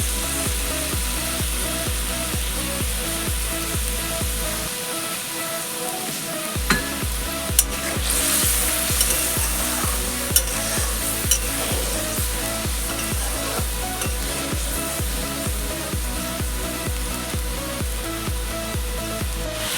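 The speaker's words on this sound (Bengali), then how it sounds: "আমার এই ঝোলটা ফুটে এসছে" Rui posto fish gravy coming to a boil in a pan, a steady bubbling sizzle with a regular pulsing rhythm, a brief dip in the low rumble, and a few sharp clicks and taps.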